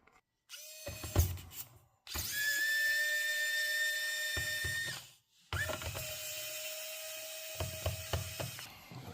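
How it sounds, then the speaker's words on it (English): A small electric screwdriver whirring as it unscrews the back-cover screws of a Lenovo B50 laptop, two long steady runs with short clicks and pauses between, close and fairly quiet. "You will need to unscrew all the screws around there."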